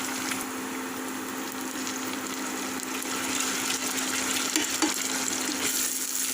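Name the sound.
sautéing tomatoes, green chillies and garlic ginger paste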